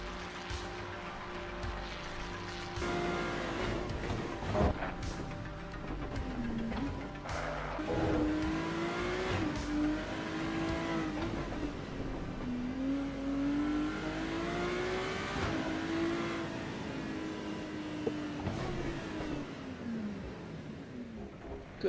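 A race car engine in a racing video game drives a clean lap, its note rising and falling with gear changes and revs, loud and continuous throughout, with occasional tire noise and no talk.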